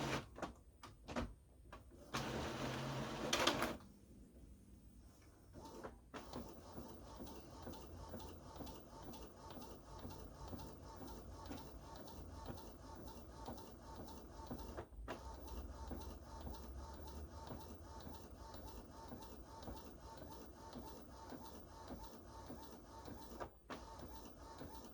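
A desktop printer slowly running a high quality sticker sheet print job, with a steady mechanical whir and rhythmic ticking of the print head that continues throughout, preceded by a brief louder feed burst at the start.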